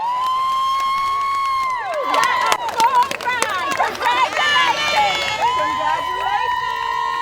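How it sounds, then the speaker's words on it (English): Students scream, cheer and shout in an excited crowd at a college fair with scholarship announcements, loud and sustained, rising sharply after a steady hum and fading back near the end. "you hear screams and shouts and people jumping up and down"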